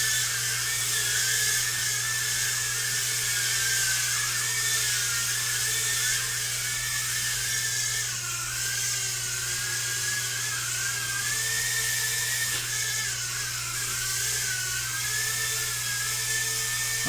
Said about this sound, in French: Ce quadcopter est vraiment parfait pour voler à l'intérieur.